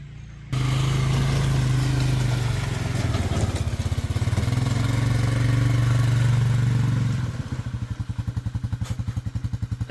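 An engine runs close and loud on a rough track, a steady drone that shifts to a pulsing, clattering chug toward the end as the vehicle drags a meat wagon behind it at a Manitoba fall bear camp.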